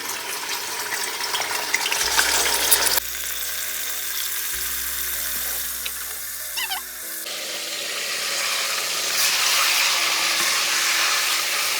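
Meat frying in a generous amount of oil in a pot for plov, a steady loud sizzle and crackle running throughout with a few shifts in intensity and no voices.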